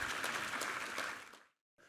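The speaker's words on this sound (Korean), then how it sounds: "하나님께 우리 감사와 영광의 박수 올려드리겠습니다." A church congregation applauds after a scripture reading: sustained, dense clapping that tapers off and falls silent, then a brief new sound starts at the very end.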